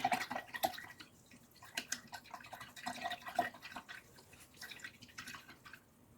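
A paintbrush swished and rinsed in a water cup during acrylic painting over a photograph, giving soft, irregular drips and splashes that sound quiet and close, with no talking.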